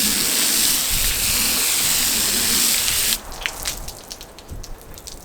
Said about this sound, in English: let's flood it out and see how it does when we flood it out